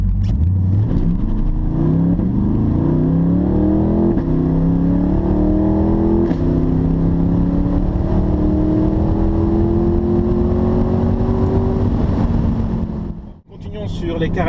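Chevrolet Corvette C8 with a naturally aspirated 6.2-litre V8 and Akrapovic exhaust accelerating hard, its loud engine note climbing steadily through the gears for about twelve seconds with wind noise, then cutting off abruptly.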